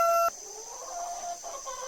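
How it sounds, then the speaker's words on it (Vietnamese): A chicken clucks briefly and softly after a short electronic beep tone at the start. "Con gà."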